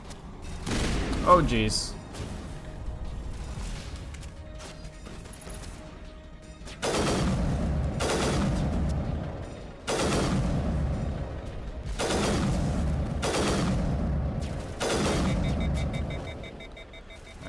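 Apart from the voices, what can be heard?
enemy gunfire in the Mass Effect video game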